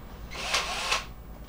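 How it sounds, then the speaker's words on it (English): A drill whirs briefly, a short rising and falling burst of motor noise as it bites into material, close and fairly loud. "all we're going to do is we're going to drill a hole"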